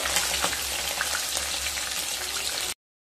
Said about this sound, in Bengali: দুটো সাইড মাছ ভাজা হয়ে গেছে, এবার তুলে নেব।